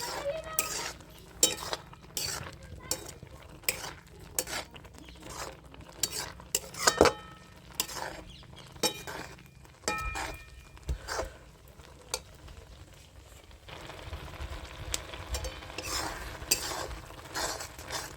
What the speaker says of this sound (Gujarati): આપણે મિત્રો એને સતત આમને હલાવતા જ રહીશું